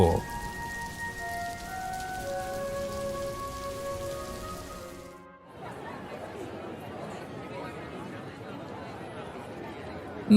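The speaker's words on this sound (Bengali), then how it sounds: "বৃষ্টির মধ্যে যাসনি রে এভাবে বাইরে বাজ পড়ছে তো" Rain pours in a cartoon scene, a dense, even hiss that takes over after a moment of tonal sound and a short dip, and then runs on without a break.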